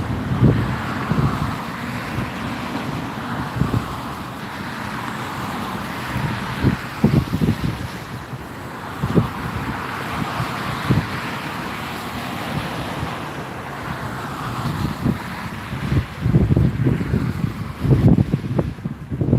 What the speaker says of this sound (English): Doing my best to keep the camera still in these 40-mile-an-hour wind gusts here